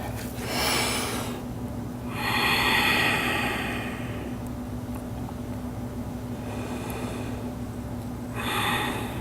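Deep inhales and exhales during a yoga flow, three broad breathing swells spaced several seconds apart over a steady low hum, fairly close and unaccompanied by talk.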